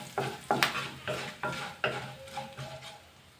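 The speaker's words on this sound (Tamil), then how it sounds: "எல்லாம் நல்லா மிக்ஸ் பண்ணிடலாம்." A spoon scrapes and knocks through a curry mixture for vendakkai mor kuzhambu in a pan, about seven distinct strokes in a steady rhythm, close and clear, with faint sizzling beneath and no talking.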